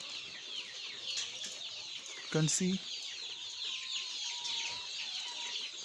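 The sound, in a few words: chickens clucking in a brooder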